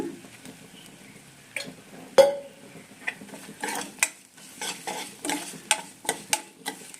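Ginger-garlic paste frying in a pan with very little oil for an egg fry: quiet spatula scrapes and clinks against the pan, irregular and close, over a faint soft sizzle.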